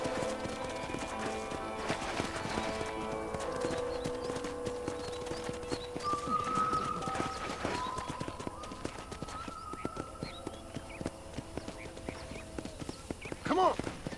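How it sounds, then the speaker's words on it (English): Horse hooves clip-clopping in the Western video game Red Dead Redemption, a steady rhythmic trot under game music with a brief whinny, while characters speak over it. "let's see if you can still ride a horse"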